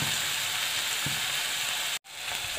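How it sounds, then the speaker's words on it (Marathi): Chopped tomato frying in hot oil for a Gudi Padwa festive thali, a dense continuous sizzle that briefly cuts out near the end before resuming. "टोमॅटो आपल्याला तेलामध्ये छान फ्राय करून घ्यायचा आहे"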